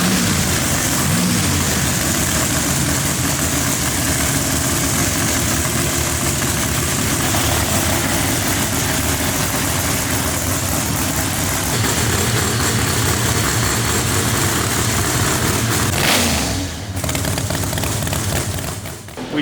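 A Pro Line Racing HEMI race engine idles loud and steady while warming up, a dense, continuous roar with a brief dip near the end and no talk over it.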